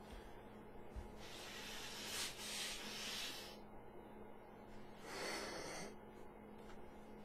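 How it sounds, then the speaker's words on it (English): A person with a deviated septum blows their nose, giving two long, breathy, snorting bursts close to the microphone with a pause between them, over a steady low hum. "I'm going to blow my nose, see if I can clear my palate out a little bit there."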